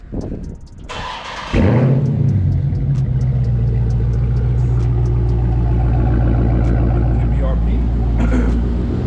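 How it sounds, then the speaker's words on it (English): Dodge Charger Scat Pack cold start on a 30-degree day: a brief cranking whir, then a loud, close bark as the engine catches and holds a heavy, steady high idle. "we'll go ahead and hit y'all guys with the cold start"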